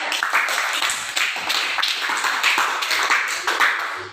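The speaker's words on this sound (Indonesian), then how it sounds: "beri aplaus ya untuk kelompok 3" A classroom of students applauding a presenting group, dense loud clapping from many hands sustained evenly throughout, close and without talk.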